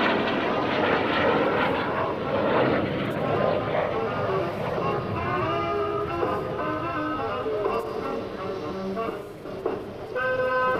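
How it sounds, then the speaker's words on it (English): An F-86 Sabre jet roars continuously as it passes low overhead along an airshow center line, loud and sustained, with a crowd murmuring faintly underneath. "As Dale Snodgrass rolls the AT&T F-86 right down the Airshow center line."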